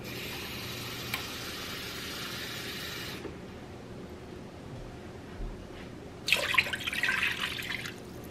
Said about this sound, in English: So you're just going to put some water at the bottom of the pan.